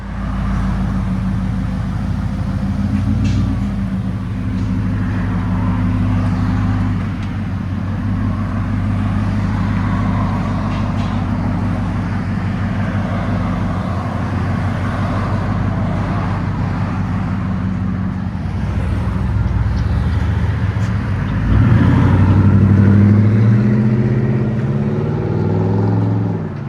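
Road traffic passes nearby, vehicles droning and swelling as they go by, with a louder engine rising near the end over a continuous roadway rumble.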